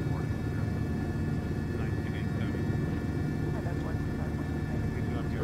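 A helicopter flies over Los Angeles County on a rail yard tour, giving a steady, loud broadband rotor and engine drone that holds evenly throughout with no pauses.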